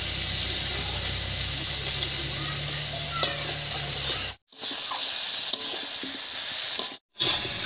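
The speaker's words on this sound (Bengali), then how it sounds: "টমেটো দিয়ে বেশ কিছুক্ষণ নাড়িয়ে নিয়েছি" Chopped tomato with a little salt sizzles and fries in a pan, a close, steady hiss with soft stirring scrapes, interrupted twice by brief silent gaps.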